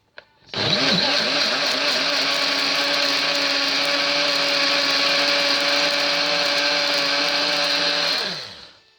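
A kitchen blender starts abruptly and runs at a steady, loud whir for about eight seconds mixing homemade vegan jello, then winds down to silence.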